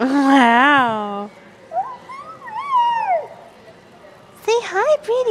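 A kitty gives a long, wavering meow up close, followed by quieter rising and falling mews and another short burst of cries near the end, with faint voices in the background.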